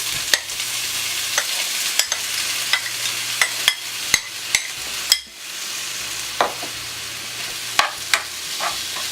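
Grated coconut is stirred with butter in a pan over very low heat, giving a steady soft sizzle broken by repeated sharp scrapes and clinks of the utensil against the pan, with no talking.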